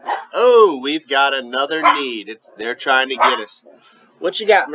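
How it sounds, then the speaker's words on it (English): A dog barks repeatedly in the background while a person talks over it almost continuously, the barks partly masked by the voice. "You can hear the wild beast of a dog in the background."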